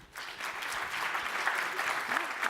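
Faint audience applause as a poll on straight talk to the CEO, a dense patter of clapping lasting a couple of seconds.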